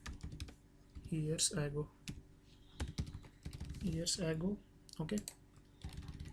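Computer keyboard typing, quiet clusters of key clicks in short runs between pauses, heard under someone talking.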